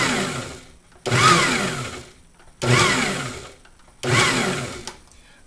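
A food processor pulses a beer cheese mixture in four short bursts, each a loud whirring roar lasting about a second, separated by brief quiet gaps as the blade winds down.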